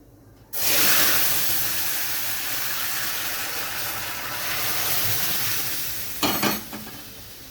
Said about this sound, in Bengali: এবার আমি দিয়ে দেবো সেদ্ধ করে রাখা ডাল আর চালটা একসাথে